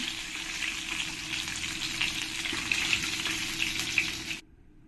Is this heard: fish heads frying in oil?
yes